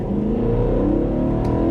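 A car's engine revs hard toward 7,000 rpm in sport mode, a loud, steady rising drone with climbing harmonics held close throughout.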